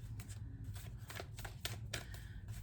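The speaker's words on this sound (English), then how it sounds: "let me regroup here because I'm shuffling too hard" Tarot cards riffled and shuffled in quick, soft bursts over a low hum, close to the listener.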